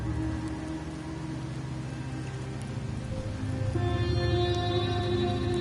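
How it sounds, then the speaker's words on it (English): Steady rainfall in the video game Wuthering Waves, a continuous dense patter that thickens and grows louder toward the end, with a soft tonal ambient layer beneath it. "The rains in Septimont never seem eager to leave this season."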